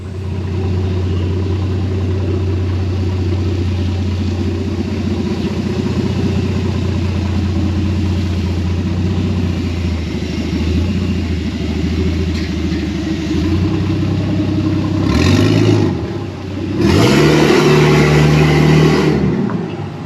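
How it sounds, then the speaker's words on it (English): A Holden VL turbo engine with no exhaust fitted runs loud and close, idling with a rough steady drone, then revs up sharply twice near the end. "All right, first drive in the VL's got no exhaust on it."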